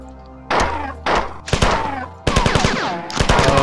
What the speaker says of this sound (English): Why don't you try out the gun there?